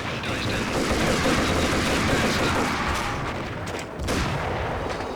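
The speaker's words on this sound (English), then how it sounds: "Ow, I got sniped." Dense game gunfire from Max Payne fills the whole stretch as a continuous loud barrage with several sharp cracks that fit a sniper rifle shot, with no clear single report standing apart and a short dip near the end.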